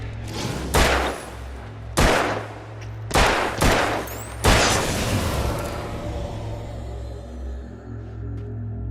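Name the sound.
gunshots from the video game Alan Wake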